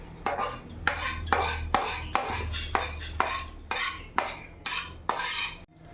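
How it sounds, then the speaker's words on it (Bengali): Panch phoron spices dry roasting in a pan, marked by a rhythmic series of about a dozen metallic spatula scrapes and clinks against the pan, close and even, with no talk. "5 ফোড়নটা হালকা আমি এইভাবে ড্রাই ভেজে নেব।"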